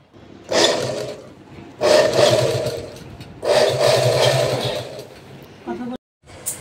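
A domestic sewing machine whirring in three sustained bursts of stitching separated by short pauses, close and fairly loud, with a brief clatter near the end and no talking.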